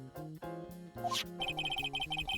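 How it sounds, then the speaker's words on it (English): A phone ringtone in the Phoenix Wright: Justice For All game, a repeating electronic melody of short beeping tones over a background music track. "oh, that's my phone"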